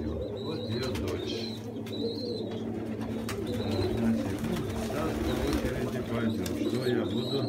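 Pigeons coo in a low, steady murmur from a loft of someone's birds, with someone talking over them throughout and a few faint higher chirps scattered on top.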